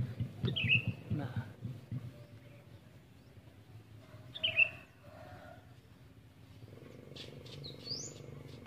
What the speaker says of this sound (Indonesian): Kicau burung yang kita dengar bukan bising kendaraan dan asap.